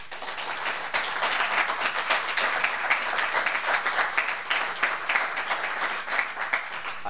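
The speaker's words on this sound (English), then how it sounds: "I want to ask another applause for all of my team" Dense, steady audience applause at a closing session for the speaker's team, sustained and fairly loud with no talking over it.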